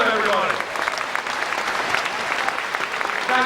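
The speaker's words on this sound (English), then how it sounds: "Applause, everybody." Steady, dense applause from a party conference crowd in Margate, many hands clapping at once without a break, filling the hall at moderate loudness.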